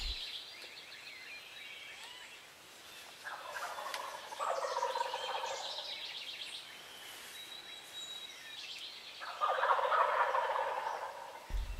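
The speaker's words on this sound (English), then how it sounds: "we actually had turkeys" Wild turkeys gobble in loud bursts from roost trees just above a hunting blind, with a couple of strong rattling calls separated by quieter stretches of birdsong.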